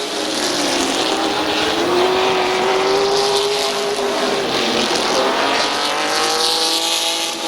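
Race trucks roar around the oval at Midvale Speedway, with loud, continuous engine noise, rising and falling pitch as they pass, and a dense field of motors running together.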